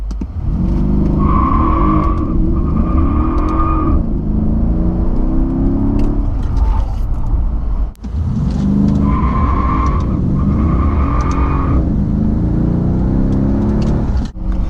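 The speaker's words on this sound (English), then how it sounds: "it's going to be pretty difficult to control the wheel spin with 664 pound-feet of torque" Mercedes CL63 AMG with traction control off launching hard, a loud continuous engine roar with squealing tyre wheelspin, two long bursts of revving and screeching separated by a brief dip, no talk.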